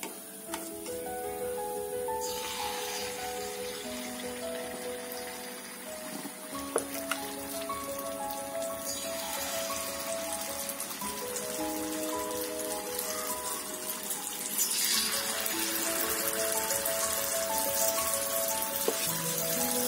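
Jackfruit unniyappam batter with coconut bits is poured into hot oil, giving a steady broadband sizzle and crackle that runs throughout and swells near the end, with faint tonal sounds in the background.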